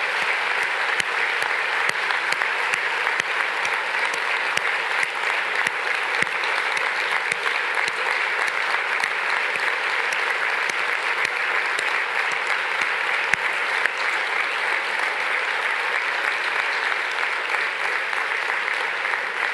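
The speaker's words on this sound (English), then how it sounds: "please join me in a big round of applause for the team that has worked so hard to make such a fantastic program for you" A climate summit audience gives a long, steady round of applause for the organizing team. The dense clapping holds at an even level throughout, with no voices on top.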